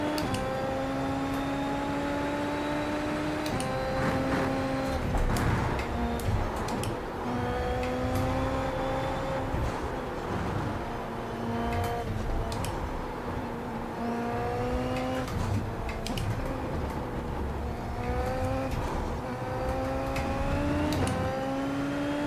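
A Super Formula race car engine in iRacing at Circuit of The Americas, a steady high-pitched howl rising and falling through repeated gear changes, close and sustained with no talking.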